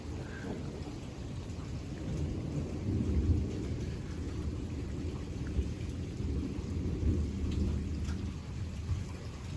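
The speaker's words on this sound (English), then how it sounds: "I got that CG on camera. CG is a lightning strike." Thunder rumbling through a mesoscale convective system over Highland County, Ohio, after a cloud-to-ground lightning strike, with steady rain falling throughout; the low rolling rumble swells and fades over several seconds.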